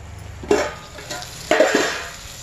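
A spoon stirs and scrapes through a drumstick, sesame and coriander curry with roasted peanuts in a pan, two short scraping strokes about a second apart over a faint background hiss.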